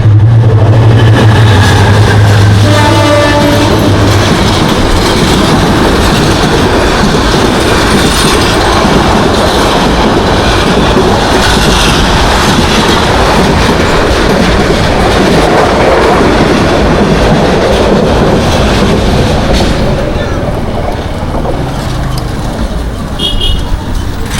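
A train rolls loudly past a railway level crossing in Narsinghdi town, a sustained close roar of wheels clattering on rails. A low warning tone sounds near the start, and the noise eases slightly toward the end.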